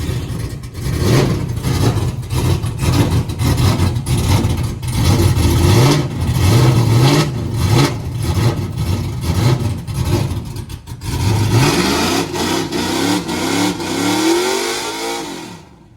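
Camaro engine being prepared for a burnout competition, revving hard and loud in repeated surges for the whole stretch, with a brief dip before one more strong climb toward the end.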